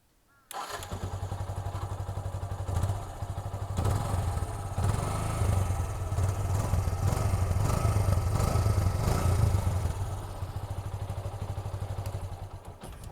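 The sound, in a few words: motorcycle exhaust, engine running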